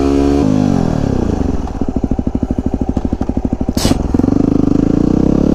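A supermoto motorcycle engine drones loud and close during wheelie practice, its throttle pulsing in a fast regular rhythm, with a brief sharp burst of noise near the end before the revs climb and settle.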